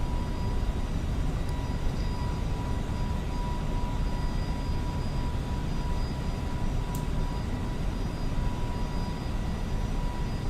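An FSLabs A321neo airliner departs Dallas-Fort Worth in a flight simulator, its engines producing a steady, dense roar that holds at an even loudness throughout with no speech.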